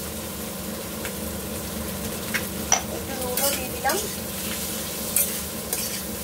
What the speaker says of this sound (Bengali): তো মোটামুটি পেঁয়াজটা ভালোই ভাজা হয়ে গেছে, নরম হয়ে গেছে।